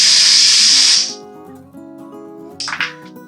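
An airbrush or spray gun hisses loudly for about a second as paint goes onto a bluegill fishing lure, then a brief second burst follows after a pause.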